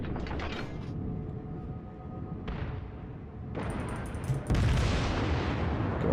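Heavy naval gunfire from a Japanese Kongō-class battleship in World of Warships, with deep booming blasts at about 2.5 and 4.5 seconds over a constant low mechanical rumble, the later shot louder and broader.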